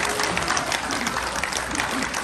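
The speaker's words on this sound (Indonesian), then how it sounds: "kita boleh berikan tepuk tangan untuk Ustaz Adi Hidayat." Dense, even applause from an audience at a Quran-themed gathering at Muktamar Boston 2022, filling the whole short moment at a steady level.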